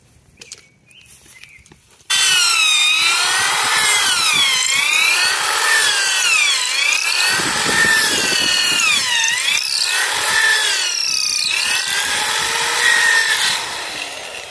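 A power drill bores a hole into a tree trunk to hold an ACECAP insecticide capsule. After a quiet start, a loud, close, continuous grinding whine rises and falls in pitch as the bit bites into the wood.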